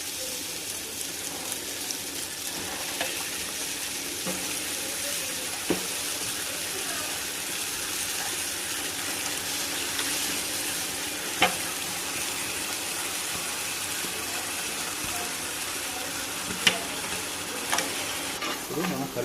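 Chicken frying in a pan with roasted onions, tomatoes and turmeric for chicken biryani, a steady broadband sizzle with occasional clinks and stirring, continuous and fairly close throughout.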